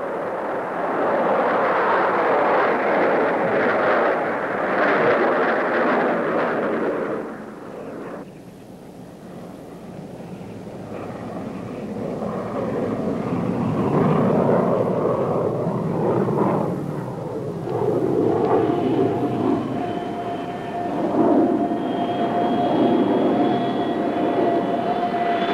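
A jet-powered car roars at full throttle on a high-speed run across the Bonneville salt flats. The loud, broad blast eases briefly partway through, then swells again and carries on steadily.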